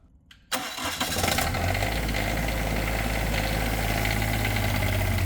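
Elvis Presley's abandoned private jet fires up its engine after a short quiet pause, catching abruptly into a loud, steady low rumble and roar that holds close and constant, with no talking.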